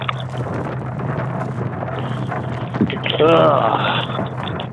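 Strong gusting wind, around 70 mph during a severe thunderstorm near Roswell, roars steadily and close into the microphone while people talk nearby.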